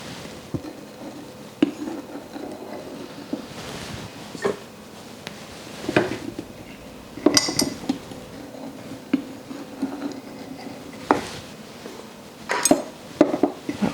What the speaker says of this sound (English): we're going to go ahead and put some flour in the mixing bowl with the salt